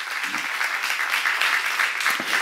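Congregation at a church seminar applauding together, a steady dense wash of clapping that holds evenly for the whole stretch with no voices over it.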